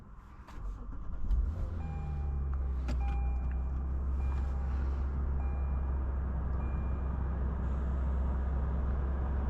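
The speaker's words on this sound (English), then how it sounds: "let's go for a drive in this 2016 Lexus RC300 F Sport" A 2016 Lexus RC 300 F Sport AWD with a 3.5-liter naturally aspirated V6, heard from inside the cabin. Low engine hum settles into a steady drone as the car pulls away, with faint road noise and a few light clicks early on.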